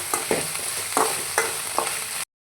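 Garlic sizzles in a hot pan while being stirred, a steady frying hiss broken by four or five scraping strokes of a spoon, close and clear with no speech.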